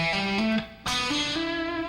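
Distorted electric guitar picking a rising E pentatonic three-note-per-string run with wide stretches, several separate notes stepping upward with a short gap midway, played alone and moderately loud.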